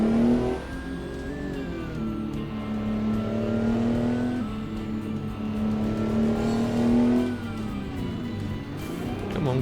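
A 12V71T diesel truck engine in American Truck Simulator, heard through the Kriechbaum engine sound MegaPack 4.1, droning loudly up and down through the revs, rising through each gear, then briefly dropping between shifts.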